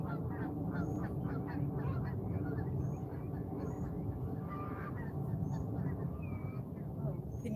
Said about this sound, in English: Can you hear the geese flying by?